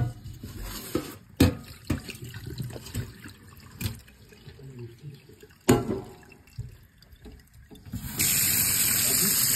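Tea-dyed Aida cloth being emptied of its dyeing water into a sink, with sloshing and splashing that gives way to a steady running pour at the end, under brief speech.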